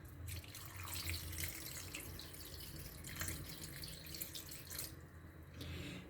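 Water poured into a cooking pot holding a cinnamon stick and a black cardamom pod for Hyderabadi biryani, a steady running stream lasting several seconds with small shifts in flow and no voices.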